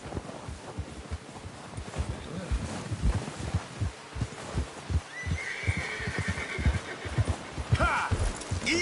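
Horse in a video game, with repeated hoof clip-clops and a snorting, neighing animal close by, set against steady ambient game sound that holds throughout.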